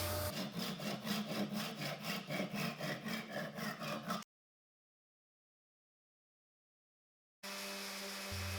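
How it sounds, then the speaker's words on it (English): Wood being sanded with a rapid, rhythmic scratching, then a sudden gap of silence before a steady whirring orbital sander noise resumes, sanding the end of a wooden scratch awl. "finished sanding off the end at the orbital sander."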